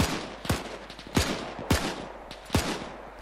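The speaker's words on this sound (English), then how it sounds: "We're taking fire." Gunfire in the combat video game Arma, with four sharp, evenly spaced shots cracking out over a quiet background, moderately loud and fairly close.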